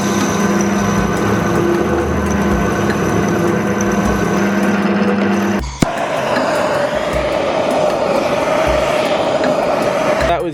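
Milwaukee oscillating multitool fitted with a Diablo blade trimming 5mm off a bearing for a boat rudder, a steady loud high-pitched buzzing drone that briefly cuts out and resumes with a changed tone as the blade bites.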